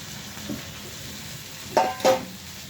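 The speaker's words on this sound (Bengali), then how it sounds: "এই আলুটা একটু নাড়াচাড়া করে নিই।" Potatoes frying in a pan get stirred: a soft steady sizzle underneath, with a faint scrape and then two brief louder clinks of a utensil against the pan near the end.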